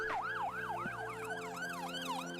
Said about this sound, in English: There may be more than one emergency vehicle approaching the junction